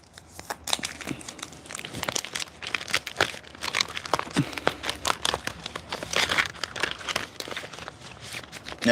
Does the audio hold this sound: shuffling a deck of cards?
yes